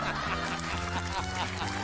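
A gander honks repeatedly in loud, nasal, close-up calls that run together with barely a pause.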